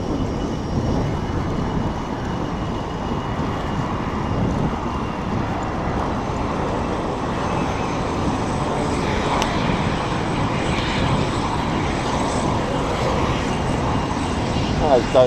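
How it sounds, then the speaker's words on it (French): A jet airplane taking off roars steadily at a distance, a broad sustained engine rumble lasting throughout, with no clear talking over it. "Ça c'est le décollage"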